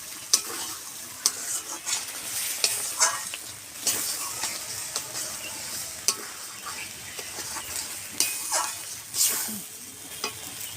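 Spice paste for chicken curry sautés in a pan with a soft continuous sizzle, punctuated by frequent sharp spatula scrapes and taps in an irregular rhythm; no talking.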